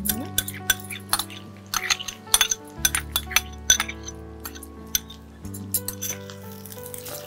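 Soaked, drained rice tipped into a pan of frying vegetables for a vegetable tehari, with metal utensil clinks and scraping stirs over a low steady sizzle, close and fairly loud.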